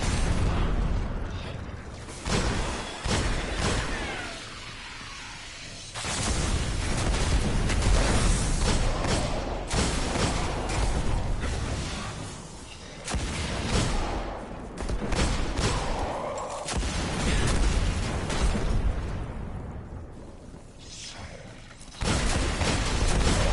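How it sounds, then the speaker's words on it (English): Scorch cannons firing in Destiny, heard as repeated heavy blasts and mechanical bursts within a busy, loud combat mix that rises and falls over the stretch. "Scorch cannons we have."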